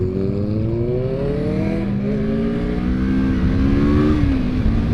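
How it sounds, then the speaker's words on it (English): A car engine revs with a distinctive exhaust note, heard loud and nearby from a motorbike ride, the engine tone climbing and dipping in pitch across several seconds over continuous road and wind rumble. "I know that tone. I know that exhaust sound."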